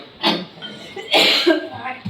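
A person coughs a couple of times in a home kitchen while vegetables are being prepared for tempering, short harsh bursts close by with faint background noise between them.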